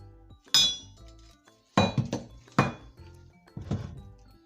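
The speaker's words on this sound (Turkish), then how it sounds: "Sonra motorumuzun üst kapağını söküyoruz." Top cover coming off a Bosch Maxx washing machine motor during a repair, heard as four separate sharp metallic clanks and knocks with short ringing tails, spaced by quiet gaps.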